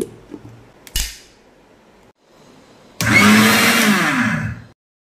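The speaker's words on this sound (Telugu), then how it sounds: "ముందుగా ఆవాలు మిక్సర్ జార్లో వేసుకొని పొడి చేసుకోవాలి." An electric mixer grinder powders mustard seeds in its jar for mango avakaya pickle, a loud steady whirring grind of about a second and a half, preceded by a sharp clack and quiet handling.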